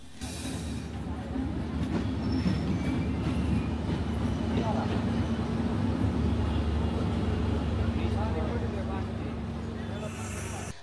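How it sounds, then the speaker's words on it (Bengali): A train pulls into platform 2 at Jashore station, a loud, steady rumble of rolling wagons with faint wheel squeals, while people talk over it. "আমাদের ট্রেন এসে পৌঁছে গেল যশোর স্টেশনে"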